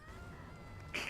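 A cat meows in the video game Path of Exile, one short, bright cry near the end of a brief stretch of steady background game sound.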